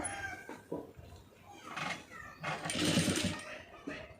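A sewing machine stitches the side seam of a blouse in short mechanical bursts, loudest in a sustained run near the end, with faint voice in the background.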